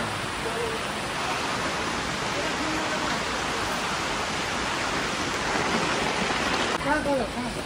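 Heavy rain at Kedarnath pours down in a dense, steady hiss that fills the whole stretch, with a faint voice briefly near the end.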